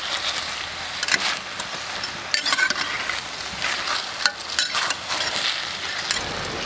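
Braised soft-shell turtle being stir-fried with soy sauce in a pan, a steady close sizzle with repeated scraping and stirring strokes, no voices.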